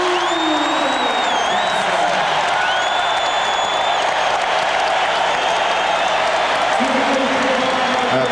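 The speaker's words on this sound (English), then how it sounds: "The crowd again trying to distract Malone" Basketball arena crowd during an NBA playoff game, Utah Jazz at Seattle SuperSonics, roaring continuously to distract a free throw shooter, with loud sustained cheering, whistles and whoops throughout, and a commentator talking over it.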